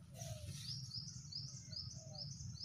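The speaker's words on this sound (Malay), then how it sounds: "nih dapat burung nih. Burung apa nih? Burungnya bagus." A small bird gives a series of quick, high chirps and short tweets, faint and fairly close, repeated in an uneven rhythm over a low background hum.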